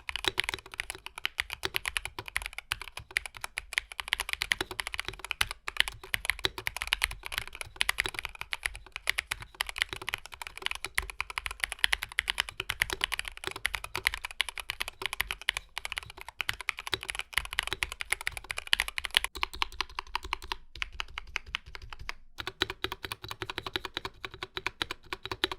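Steady rapid typing on a Mountain keyboard fitted with Mountain's own factory-lubed branded switches, a dense run of close, crisp keystrokes that continues for about twenty seconds before thinning briefly, with no talking.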